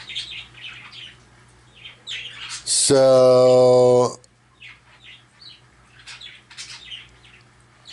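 A pet bird gives one loud, harsh, drawn-out squawk indoors, with softer chirps and a person talking quietly before and after it.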